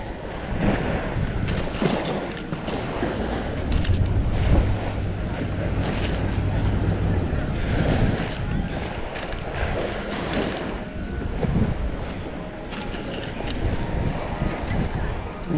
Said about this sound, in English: There's our boat.